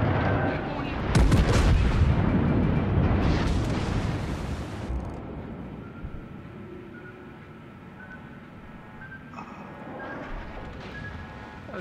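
An incoming British ship volley in World of Warships lands as a heavy rolling boom with a dense burst of explosions, then fades into a low rumbling game background with lighter distant impacts.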